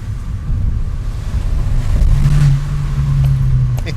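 An Abarth 595 Competizione in sport mode with its exhaust valves open gives a steady, close engine drone that rises into a louder, buzzy tone as it accelerates, with wind rush underneath and no talking.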